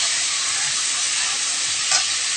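Ginger paste frying in a pan gives a loud, continuous close-up sizzle that stays even throughout, with a brief bump in the sound near the end.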